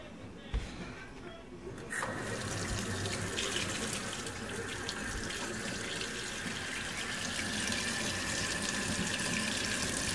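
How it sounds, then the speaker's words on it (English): Cold water gushes from a tap in a steady, loud splashing hiss that starts abruptly after a couple of soft knocks and continues unbroken to the end. "I'm going to take it over here by the cold water and run some cold water on it."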